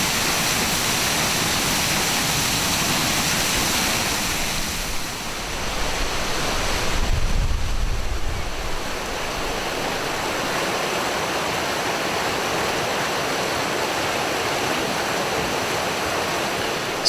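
A waterfall in Pisgah pours into a pool below, a loud, steady, full roar of rushing water that fills the whole scene without pause.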